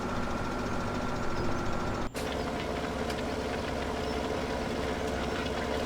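Tractor engine running in Farming Simulator 17 on the Goldcrest Valley map, a steady low rumbling idle heard close and continuous, broken once by a brief dropout, with no talk.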